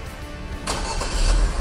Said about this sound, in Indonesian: secara otomatis maka mobil Wuling New Cortez ini akan menyala